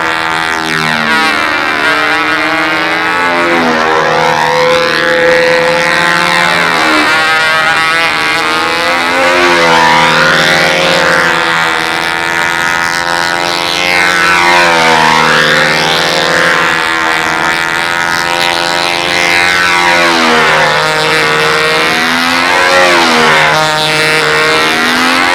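A model aircraft engine flies at a windy Seafire contest at Westover AFB, its steady loud drone rising and falling in pitch as the plane passes repeatedly overhead, with no talk over it.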